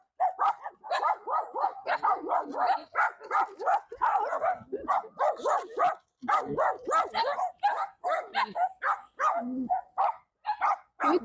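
Several small spaniel dogs bark excitedly and continuously in a rapid overlapping chorus of yaps, close and loud, with only brief pauses, no talking.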